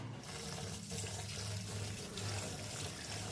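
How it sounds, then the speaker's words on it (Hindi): Water pours steadily into a cooking pot while dal and rice are prepared for a large group, making a continuous close splashing rush that lasts the whole moment without pause. "इसमें पानी डालो।"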